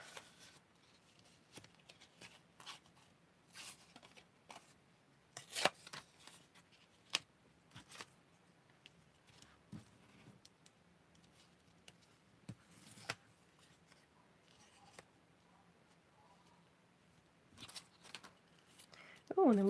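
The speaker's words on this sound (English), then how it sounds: "I'm going to tear some of these" Paper scraps torn by hand at a crafting table for card making, a series of short, crisp rips and rustles, quiet and close, spread irregularly with pauses between them.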